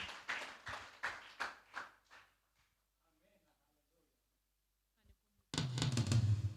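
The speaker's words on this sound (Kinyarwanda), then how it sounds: "Clap for her." A church congregation bursts into loud, sustained clapping for a bishop, following a woman's speech and a brief quiet pause.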